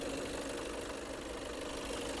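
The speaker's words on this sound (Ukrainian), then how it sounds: "Лямфера не чути, моторчик працює дуже гарно." A 2020 Volkswagen Passat Alltrack 4Motion idles in an even, steady hum heard up close, with a faint mechanical tick running through it and no one talking.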